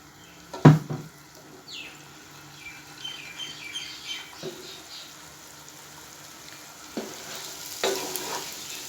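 Dal mash fries in a pan with a soft, low sizzle as a spoon scrapes and stirs, giving a few sharp clanks and scrapes against the metal over a faint, quiet background.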